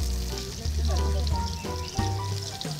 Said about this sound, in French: Comme l'huile est en train de chauffer, je mets des oignons.